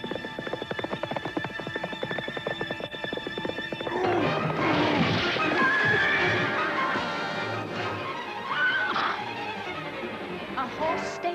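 A horse neighs and gallops with clip-clop hoofbeats, loud and close, over steady music with a voice talking.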